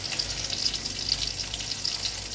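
Bamboo shoots hit a pan of frying Nepali fish curry with onions and spices, giving a dense, continuous close sizzle with crackling pops throughout and no talking.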